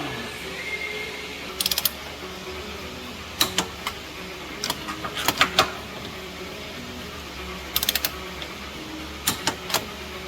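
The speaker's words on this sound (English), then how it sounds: "Now I'll torque those down" A torque wrench tightens the top nuts on a drift car's front end to 28 foot-pounds, giving short bursts of crisp ratcheting clicks in several separate clusters over a quiet background.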